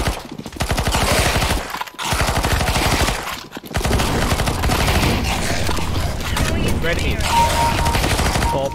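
Dense automatic gunfire in a CS:GO zombie escape match, bursts firing almost continuously with two brief pauses, loud and close, with a faint electronic tone near the end.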